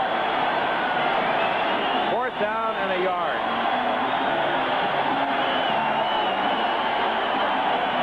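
Steady roar from a football stadium crowd screaming for the Raiders at a 1980 game against the Broncos, sustained in the background while a commentator talks over it.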